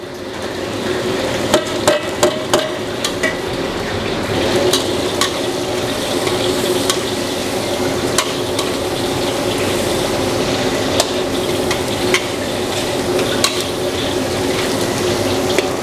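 Onions going into a hot pan with garlic, sizzling and frying steadily with scattered clicks and stirring scrapes throughout, close and continuous with no talking.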